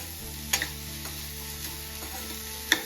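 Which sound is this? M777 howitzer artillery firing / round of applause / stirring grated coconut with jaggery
stirring grated coconut with jaggery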